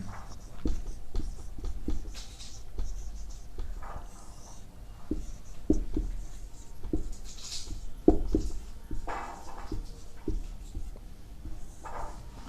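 A pen scratches out handwritten notes during a social science lesson, with irregular close strokes and taps coming in quick clusters and short pauses, and no voices.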